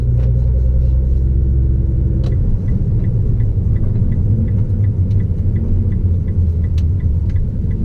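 A car idles with a Nismo exhaust and Fabworx Y pipe, a steady loud low rumble with a faint mechanical ticking above it, no talking.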